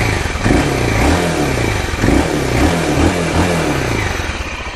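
Close, loud revving of a 1996 BMW F 650 motorcycle single through its stock muffler, with the engine note rising and falling in several repeated throttle blips over a throbbing idle.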